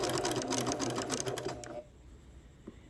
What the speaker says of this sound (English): I'm edge stitching right along the very edge